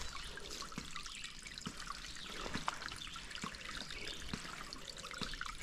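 Water trickles steadily from a homemade passive water pump that runs without electricity, a faint continuous dribble with occasional soft drips, heard alone throughout.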